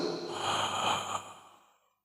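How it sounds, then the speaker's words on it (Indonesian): One long, breathy inhalation, close and fairly loud, swelling then trailing off into silence with no talking. "Contohnya kita narik napas itu"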